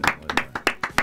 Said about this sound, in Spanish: un aplauso, Carlos.